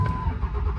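A Cummins 5.9 diesel pickup engine cranks and catches by remote start, a close, rough, low rumble churning steadily throughout without speech.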